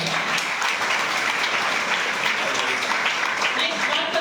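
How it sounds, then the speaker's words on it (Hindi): Audience applause at a product training session in Kolkata, a loud, even, continuous roar of clapping from a large crowd with some voices blended in. "एक बार तालियां हो।"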